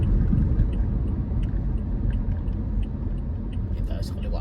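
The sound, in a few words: road traffic during a drive to Riyadh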